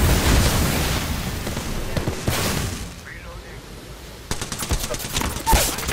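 Gunfire in the Apex Legends battle royale on PS5: rapid bursts of shots and booms over a busy mix of game sounds, with sharp clustered reports toward the end and voices in the background.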